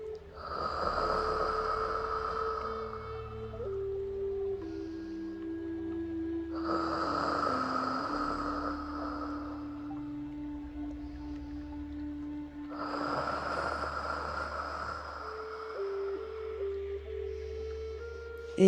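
Deep, slow breaths drawn during a Pilates mat exercise, three long breathy swells spaced several seconds apart over a steady low background tone, close and moderately loud, with no talking.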